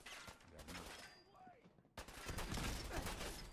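Rapid video game gunfire, dense bursts of many bullets crackling in quick succession, growing louder and more continuous in the second half, with voices talking over parts of it.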